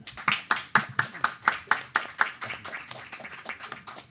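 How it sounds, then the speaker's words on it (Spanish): An audience at a Latin American film and literature panel in New York claps in a rhythmic burst, sharp distinct handclaps pulsing steadily and fading slightly toward the end, without voices. "Un aplauso, por favor."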